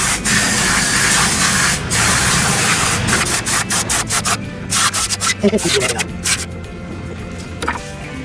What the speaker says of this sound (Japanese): チェーンクリーナーですが、これで掃除します。